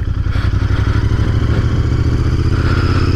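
A Royal Enfield motorcycle rolls at low speed on the clutch with no throttle, its engine thumping in a steady, loud, close-up rhythm with a mechanical clatter running through it and no voices.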